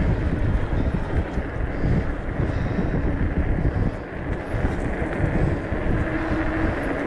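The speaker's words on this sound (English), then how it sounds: "It's still quite windy again today, but not as much as yesterday." Steady wind buffets the microphone outdoors on a hilltop on England's south coast, a continuous low roar and rumble with no pauses, loud and close throughout.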